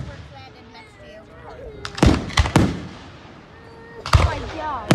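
Fireworks bursting at a Niagara Active Hose Co. display, with sharp loud bangs near 2 and 4.1 seconds over a constant background hum and distant voices.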